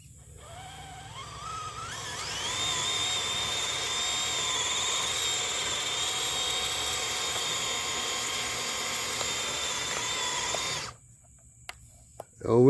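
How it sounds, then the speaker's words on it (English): An RC crawler's winch on a Redcat Gen8 V2 reels in line with a steady, high electric whine that rises in pitch and holds for about nine seconds before cutting off, then a brief clatter. "let's go ahead and winch some more"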